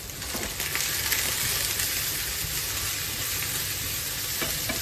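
Leeks sweat in a hot pan, giving a steady, dense sizzle with faint crackles throughout, close and uninterrupted.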